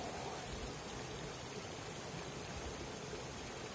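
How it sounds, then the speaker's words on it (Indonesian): The shallow, low-water Cikamiri river flows in the dry season, giving a steady, even wash of rippling water throughout, faint and diffuse, with no voices. "seperti inilah suasana Sungai Cikamiri saat musim kemarau"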